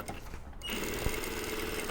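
A domestic sewing machine understitches fabric on a panel bustier, running in a steady continuous whir after a brief quiet start, close and clear with no talking.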